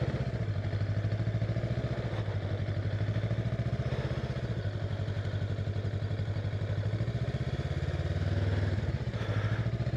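A 2025 Honda Rebel 500 rolls slowly through a parking lot in the friction zone with light throttle, its mid-pitched engine putting out a steady low idle-like thrum at moderate loudness with slight swells and no speech.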